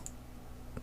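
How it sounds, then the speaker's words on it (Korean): A computer mouse gives two faint, sharp clicks, one at the start and one at the end of a brief, quiet moment. "더블 클릭."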